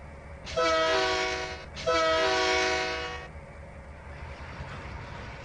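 A diesel locomotive horn in the Trainz 2019 simulator blares two long, loud, chordal blasts, the second trailing off, over a low rumble of the engine, with no talk.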